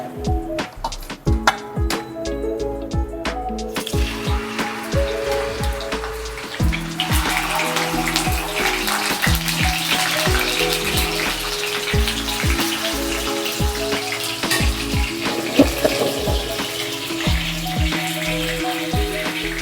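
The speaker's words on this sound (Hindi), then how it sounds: "और ये जो चिकन हमने रखा था मसाला लगा के, वो हम फ्राई करेंगे।" Masala-marinated chicken frying in hot oil in a pan over a medium flame: sharp spattering pops at first, then a dense, continuous close sizzle and crackle with no talking.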